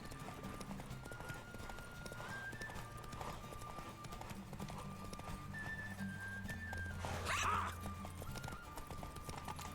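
Roach, the horse in The Witcher 3 video game, clip-clops along a path with steady, rhythmic hooves, joined by a brief whinny and other game sounds.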